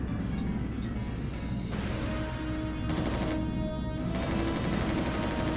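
Repeated gunfire from a weapon in the shooter game Resistance Retribution, dense and continuous over a constant roar of game sound and low rumble, with sustained bursts rather than isolated shots.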